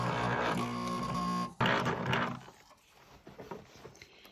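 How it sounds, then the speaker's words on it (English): An old household sewing machine stitching chair upholstery, a steady close mechanical whir with a tonal hum that stops abruptly, followed by quieter handling clatter. "I switched over to my mom's old machine that she learned to sew on"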